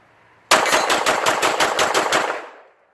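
Glock 17 pistol firing a rapid string of about ten loud, close gunshots in steady rhythm, each sharp crack running into the next before the shooting stops and a short echo fades.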